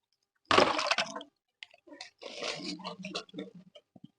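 Water is poured onto a layer of dry leaves in a grow bag being planted with ginger. A loud, close splash and rustle comes first, then a second, longer pour with crackling, soaking sounds that fade into a few drips.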